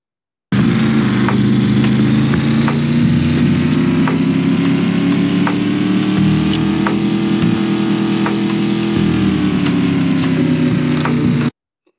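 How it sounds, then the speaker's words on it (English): A steady, loud video game car engine sound effect playing in Unity runs unbroken for about eleven seconds, a low rumbling hum with a constant pitch and no voices. "I will have the car engine still playing"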